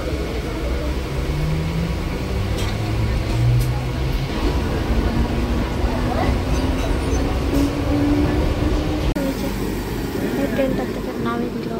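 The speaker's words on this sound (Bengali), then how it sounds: "8:34 বনগা লোকাল ছাড়ল, 1 সেকেন্ড তো লেট নেই।" Bongaon local commuter train pulling out of a station platform in West Bengal, a steady loud rumble with rising tonal whine as it gathers speed, continuous and close throughout.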